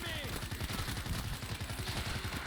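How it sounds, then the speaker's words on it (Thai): Rapid gunfire in the zombie shooter World War Z, a dense stream of close repeated shots in quick succession, loud and continuous with little pause. "ปืนเขายิงทีเดียวแตก เป็นลูกซอง"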